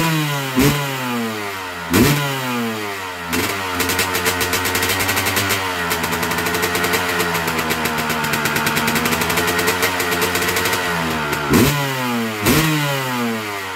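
A 2000 Honda CR250R two-stroke motorcycle engine idles unevenly up close, with several sharp blips of the throttle that rise and fall again, loud and alone with no talking.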